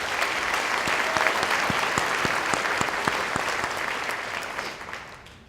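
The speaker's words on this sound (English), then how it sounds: "Let's give these 4 people a round of applause" Banquet audience applauding at a 4-H Congress leadership banquet, a broad, steady patter of many hands in a large room that gradually fades out.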